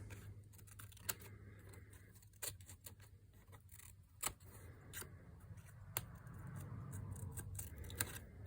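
Scissors snip through paper to trim glued overlapping ends in a mixed media paper weaving project, giving a string of sharp, close cuts spaced a second or so apart over a faint steady hum.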